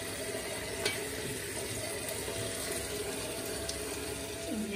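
Okra is rinsed under a running kitchen tap, giving a steady, even rush of water from start to finish, with no voices.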